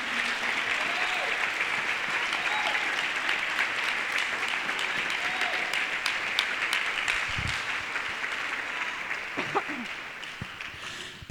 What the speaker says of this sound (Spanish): Dele fuerte palmas al Señor en esta noche.